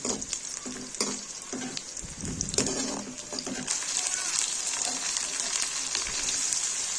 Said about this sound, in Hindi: यहाँ पे हमारा प्याज हो रहा है ब्राउन। जैसे ये ब्राउन होता है तो फिर मैं इसमें डालूंगी लहसुन अदरक का पेस्ट और साथ में दूसरे मसाले।